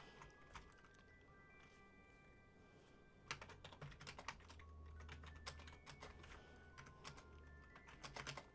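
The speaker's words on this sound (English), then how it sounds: "You guys can get a little keyboard ASMR" Typing on a computer keyboard, soft rapid key clicks in uneven bursts, faint and close, over a low background hum.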